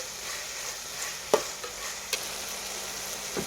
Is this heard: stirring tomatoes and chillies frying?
yes